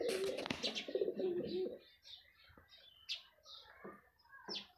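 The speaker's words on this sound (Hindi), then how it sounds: "चिड़िया भी आने शुरू हो गई हैं।" Pigeons and small birds gather at scattered feed in a village yard, soft repeated cooing and short chirps rising in clusters at close range, fairly quiet overall.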